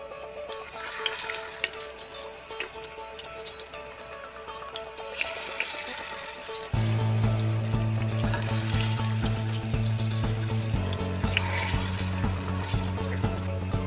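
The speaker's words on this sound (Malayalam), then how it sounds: "എന്നിട്ട് നമുക്ക് മീൻ കുക്കറിലേക്ക് വെച്ചു കൊടുക്കാം." Kerala-style fish fries in hot coconut oil inside a pressure cooker, a close, crackling sizzle that grows suddenly louder and denser partway through, with a low hum underneath and no speech.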